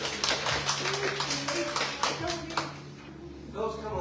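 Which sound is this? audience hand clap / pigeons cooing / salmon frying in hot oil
audience hand clap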